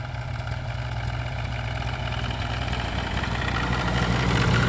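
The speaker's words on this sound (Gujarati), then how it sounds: "આ રીતનું ટ્રેક્ટર પાસે આપણે કલ્ટીની વ્યવસ્થા કરી છે એના લીધે આ રીતનું મગફળીની અંદર પાળા પણ ચડી રહ્યા છે" A tractor pulling a cultivator to build ridges in a peanut field, its engine droning steadily at a low, even idle-like rumble that grows slightly louder toward the end.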